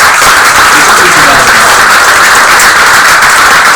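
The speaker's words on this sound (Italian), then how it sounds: "quindi penso che un applauso a tutta la squadra dei tecnici" Audience applause honoring an aviation maintenance technicians team at an Olbia book presentation on the Alisarda-to-Meridiana airline history, a dense, steady wash of clapping that stays loud throughout with some voices mixed in.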